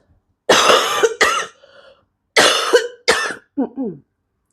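Several harsh coughs come close to the mic in two clusters, each followed by a softer raspy throat sound.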